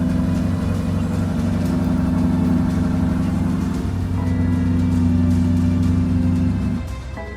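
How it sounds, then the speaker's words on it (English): A BMW X5 M50 engine runs smoothly just after starting, holding a steady, close, even hum for several seconds before it drops off near the end. "The car finally started after having enough power,"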